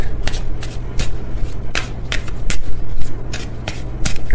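A Stellar Energy Oracle card deck is shuffled by hand in steady, crisp riffling bursts with sharp snaps between them, close and fairly loud, with no talking.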